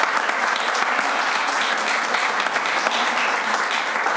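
An audience at a Waterford Board of Education meeting applauds the district's Teacher of the Year, a loud, even wash of clapping from a roomful of people lasting several seconds.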